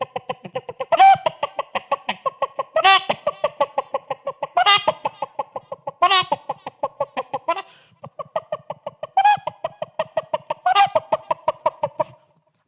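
A person imitates a hen with their voice, a farmyard hen running about. Rapid, steady clucking pulses run throughout, broken by about six louder, higher squawks at roughly two-second intervals, close and clear, with a short pause near the middle.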